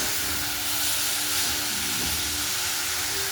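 Chopped sukitti keerai greens sautéing in a pan for a Coimbatore-style dish: a steady, loud broadband hiss and sizzle of steam running continuously without pause, with no voices.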